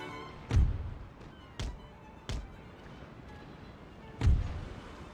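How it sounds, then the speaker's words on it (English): Musket volleys from men on a ship's deck in a naval battle in Empire Total War, heard as four separate heavy thudding bangs with a few seconds between them over a steady background rumble. "it's actually the guys on deck with muskets shooting at us"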